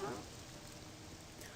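Steady, soft rain falling in the video game Morrowind, a faint, even patter throughout with no other sounds.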